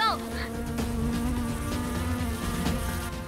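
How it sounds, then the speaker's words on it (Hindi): A small bee buzzes steadily and close in an indoor household scene, a continuous loud drone with a faint voice briefly underneath. "तो एक छोटी सी मधुमक्खी से क्यों डर रही?"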